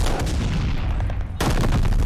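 Rapid gunfire fills a Call of Duty: Vanguard match, with dense bursts of shots and a sharp cut partway through followed by more firing. The shooting is loud and close, and no voices are heard.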